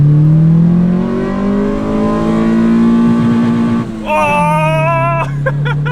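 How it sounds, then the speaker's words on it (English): Car engine fitted with a cheap aftermarket pod air filter, droning steadily and then climbing into a sharp, high-pitched rev with a raspy intake note near the end, with voices present over it. "Best sounding pod filter ever."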